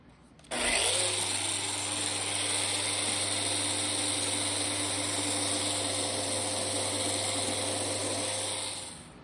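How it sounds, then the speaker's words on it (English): A power sander whirs steadily and close on a wooden clock case, its motor drone and gritty rasp holding even for several seconds before winding down. "Time for some sanding of the front side."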